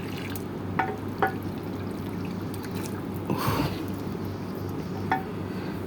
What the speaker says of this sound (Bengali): আপনারা দেখেন ট্যাপের পানি ছাড়বো এখন